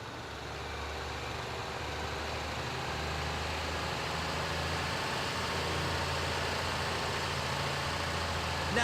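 A heavy port handler vehicle idles in the GTA V video game: a steady, continuous engine rumble holding level for several seconds with no talk.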